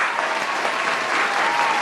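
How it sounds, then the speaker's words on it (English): A round of applause sound effect plays: dense, steady clapping from a crowd, loud and continuous for a couple of seconds. "I deserve a round of applause."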